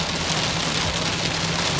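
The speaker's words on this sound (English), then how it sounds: "Guys, we just figured out it's hail." Hail pelting down hard in a storm, a dense, fast, roaring patter that stays loud and steady throughout with no voices.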